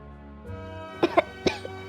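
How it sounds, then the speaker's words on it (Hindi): Three or four short, sharp coughs close by, over a faint humming background. "देखा, तुम्हें खांसी शुरू हो गई।"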